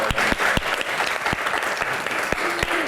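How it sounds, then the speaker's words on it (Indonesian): An audience claps for guest speakers at a Q&A event, a dense burst of hand claps with sharp individual slaps standing out, steady and fairly close for a few seconds. "rekan-rekan kita berikan tepuk tangan yang paling meriah untuk bintang tamu kita"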